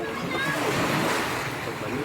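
Surging tsunami water rolls continuously onto a beach at Purok Asinan, General Santos City, with steady broadband wash and splash, while voices talk and call out over the rushing sea.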